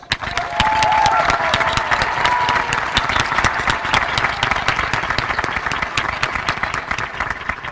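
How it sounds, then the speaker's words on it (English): Sustained applause from a large crowd at a high school graduation ceremony, dense steady clapping that continues at an even level throughout. "Let's give them a well-deserved round of applause."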